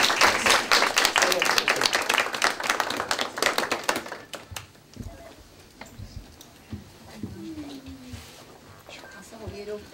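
An audience claps for a top-three winner of the Pan Armenian Painting Contest, dense applause that thins and fades after about four seconds into scattered claps under a speaking voice.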